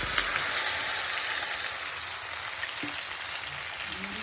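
Marinated okra fries in hot mustard oil in a kadai, a constant loud hissing sizzle with fine crackles, steady throughout, with no voices.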